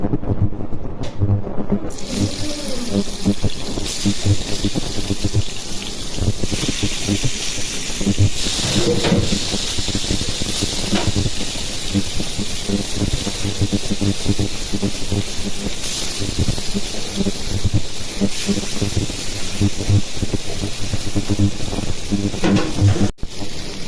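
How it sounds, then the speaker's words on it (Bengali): Rohu fish pieces fry in hot oil, a loud, dense and unbroken hiss that holds steady and close throughout with faint crackles. "তেল গরম হয়ে গেছে, এখন আমি মাছগুলো ভেজে নিব।"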